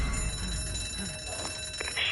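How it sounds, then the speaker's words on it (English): An alarm rings continuously in a video game, a dense, shrill electronic clatter that fills the short clip at steady volume with no pause. "Shit, it was rigged to the alarm."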